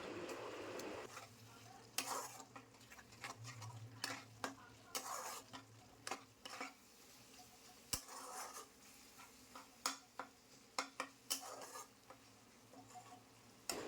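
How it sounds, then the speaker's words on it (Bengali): Spices are cooked down with tomato and onion in a pan for egg biryani, with steady stirring, scraping and a soft sizzle, broken by sharp clinks of a spoon against the pan throughout. "তারপর সমস্ত মশলা খুব ভালো করে টমেটো পেঁয়াজের সাথে মিশিয়ে কষিয়ে নেব"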